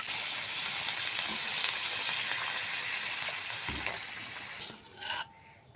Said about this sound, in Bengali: এখন দিয়ে দিচ্ছি পরিমাণ মতো জল।